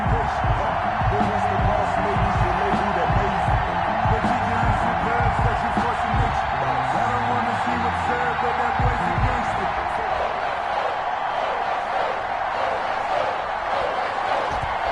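A stadium crowd in a football video game, the New York Giants against the New England Patriots in Foxborough, makes a dense, continuous roar of cheering, loud throughout and easing slightly toward the end, with commentary mixed in.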